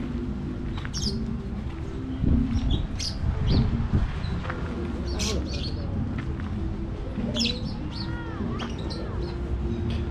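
Birds in the aviary at the Jardin d'Acclimatation chirp and tweet in scattered short calls over a steady murmur of background noise, with faint voices and a few thumps mixed in.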